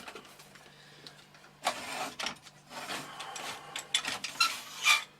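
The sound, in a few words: floppy drive sliding out on metal drive rails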